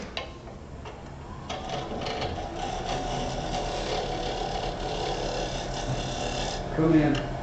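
Steady whirring hum of a wood lathe with a light scraping cut on a hollow Christmas ornament, continuous at moderate level, with a brief louder scrape near the end.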